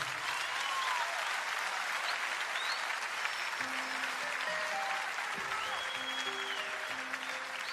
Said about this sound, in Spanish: Voy a pedirle un fuerte, pero fuerte aplauso para Claudio Toro